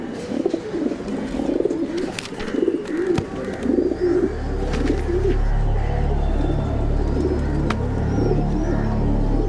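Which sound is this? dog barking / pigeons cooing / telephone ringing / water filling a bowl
pigeons cooing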